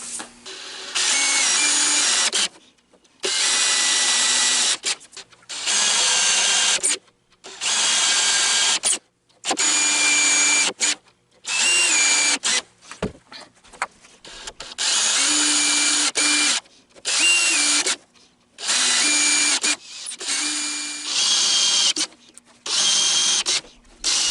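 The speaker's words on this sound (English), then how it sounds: "I'll come back to you when I'm set with the drill" A power drill whirs loudly in repeated bursts of a few seconds each, with short silences between, its pitch shifting slightly as it bites in.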